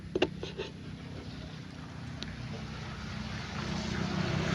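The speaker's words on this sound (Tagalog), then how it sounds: "parang may dumadaang motor" A motorcycle engine drones past at a steady hum, growing slightly louder toward the end, with no voices.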